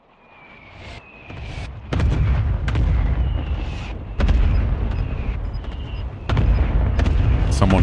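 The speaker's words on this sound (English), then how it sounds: "Someone dropping bombs on my rooftop here." Bombs pound a rooftop in the Call of Duty Warzone video game, landing in a series of heavy, booming blasts that build in loudness, with brief rushing whistles between the impacts.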